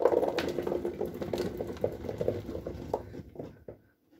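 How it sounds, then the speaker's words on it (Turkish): Leftover brine poured out of an olive jar, a gurgling, splashing stream of liquid that runs steadily for about three and a half seconds before tapering off into silence. "Bu suyla işimiz kalmadığı için bunu döküyorum."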